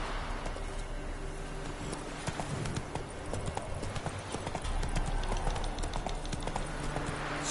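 In The Witcher 3, the horse Roach gallops with a steady, fast clip-clop of hooves running without a break under a dense game soundscape.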